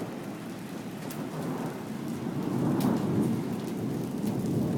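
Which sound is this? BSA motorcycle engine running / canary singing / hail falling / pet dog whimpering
hail falling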